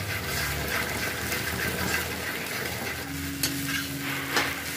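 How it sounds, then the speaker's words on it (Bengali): Eggs salted and scrambled in a pan beside carrots and beans, frying with a steady close sizzle and scraping stir strokes, a couple of sharp utensil clicks near the end, no talk. "ডিমটাকে এবার ঝুড়ি ঝুড়ি করে নেবে।"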